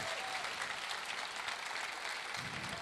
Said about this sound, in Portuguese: Você pode celebrar com palmas